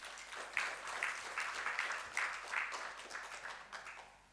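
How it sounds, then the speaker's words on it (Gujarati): An audience at a Gujarati lecture on creativity and success claps to welcome the speaker, a steady wash of applause lasting the whole few seconds at moderate level, with no voices over it. "આપણે તાળીઓથી વધાવીએ"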